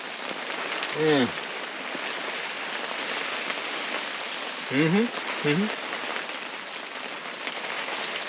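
Steady rain drums on a hot tent while camping in a heavy rainstorm, a constant dense patter throughout, with a few brief louder sounds near the start and later.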